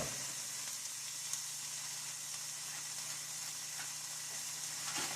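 Shaved beef chipped meat, streaked with little bits of fat, frying in a skillet, a steady close sizzle and hiss that holds evenly throughout with a few faint stirring taps and no talking.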